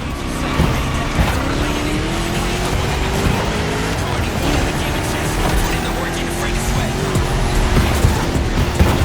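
A 1969 Mustang Boss 429 muscle car in the video game The Crew Motorfest roars continuously while driving hard, tires squealing and revs rising and falling, loud and close.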